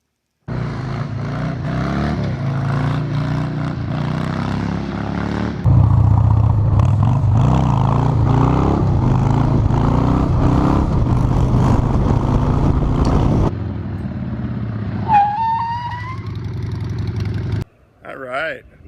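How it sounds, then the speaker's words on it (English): A Harley-Davidson dirt tracker motorcycle being ridden for wheelies, its engine loud and close, revving and surging in pitch for about fifteen seconds before cutting out near the end. "let's go ride some more wheelies"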